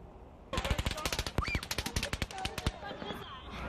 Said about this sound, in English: you can just hear the gunshots there in terrifying moments as well